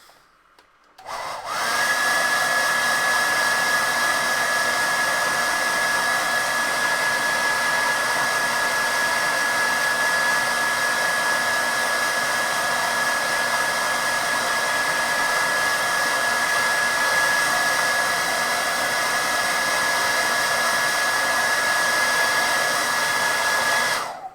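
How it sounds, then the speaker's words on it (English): A hairdryer switches on and blows steadily for over twenty seconds, a loud continuous whoosh with a high motor whine, then cuts off. "I'm going to hit this with a hairdryer once again."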